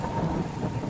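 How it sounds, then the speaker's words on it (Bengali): A thunderstorm effect with a low rumble of thunder under steady rain, dense and continuous through a brief stretch, no voices. "মেঘের গড়গড়ানি শব্দ"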